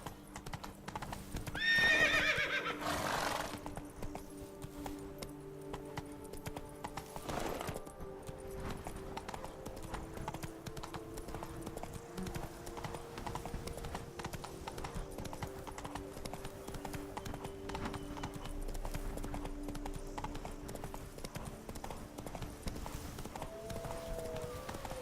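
In The Witcher 3: Wild Hunt, Blood and Wine, a horse's hooves clip-clop in a steady trotting rhythm, with a loud whinny near the start and a few more snorts and neighs later, all fairly quiet under light game sounds.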